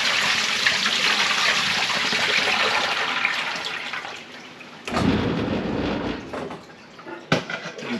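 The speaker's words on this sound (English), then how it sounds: "We got to get that brine out of there." Brine drains out of a Thanksgiving turkey in a steady, loud rush of pouring water. The flow cuts off sharply partway through, then comes back in a deeper gush with a splash near the end.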